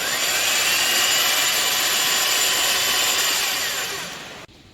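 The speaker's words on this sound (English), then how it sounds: "lightly press the trigger and pull out the switch button to engage the motor" Black Diamond PL 430/PL 490 portable lifter motor running with a steady, loud whirring drone that holds constant for about four seconds, then winds down and cuts off.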